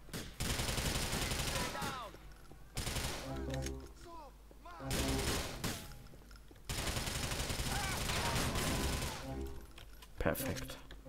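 Shotgun fire in the GTA 4 video game comes as heavy, dense bursts of loud gunfire separated by short gaps, with voices heard in places between the shots.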